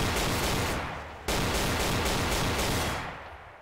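Sustained gunfire in Garry's Mod forms a dense, loud wall of rapid shots that breaks off briefly, then roars back before tapering away.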